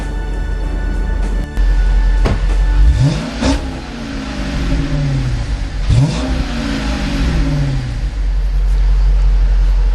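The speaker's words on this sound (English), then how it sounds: "That's the sound of 425 horsepower waiting to run wild." A Chrysler 300C SRT-8 V8 engine of 425 horsepower idles with a deep, throaty rumble, blipped twice into short revving roars that fall back to a steady burble.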